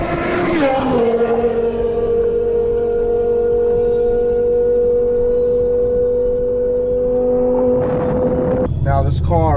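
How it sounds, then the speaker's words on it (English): A BMW E60 M5 with a V10 engine roars through a downshift on a Mumbai street. A loud, sustained howl falls in pitch, then holds steady for several seconds, close and forceful, and a voice starts speaking at the end. "when you downshift and you hear that V10 sound"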